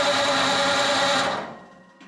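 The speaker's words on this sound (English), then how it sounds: "I'm going to crank it." A Ford flathead 8BA V8 engine is cranked on the starter without catching, giving a loud steady whirring grind for over a second before it winds down and stops.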